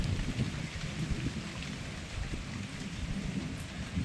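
Steady rain hisses softly and evenly over a lake, with faint low rumbling underneath and no voices.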